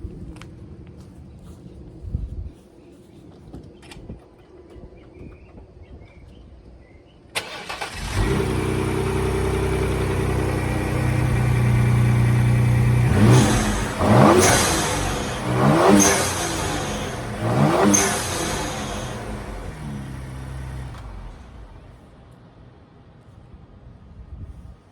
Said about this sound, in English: I'm gonna climb in my Explorer real quick, show you what an HKS sounds like.